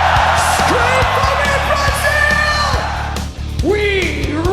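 A large stadium concert crowd in Brazil screams and roars in one dense, sustained wall of noise, with a brief dip before swelling again, loud and close throughout.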